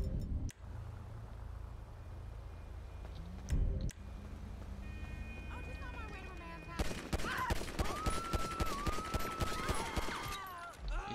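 Gunfire erupts in a video game running the Euphoria Ragdoll Overhaul mod: a few isolated shots first, then a rapid, sustained barrage of loud, closely spaced shots, with a person talking over it.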